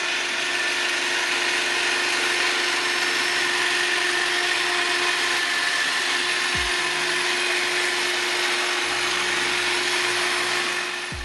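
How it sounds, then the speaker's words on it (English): A Dewalt 20V Max cordless hedge trimmer cutting hedges, its motor buzzing steadily and loud for the whole stretch, with a couple of brief low thumps near the end. "let's see how this product actually trims some hedges"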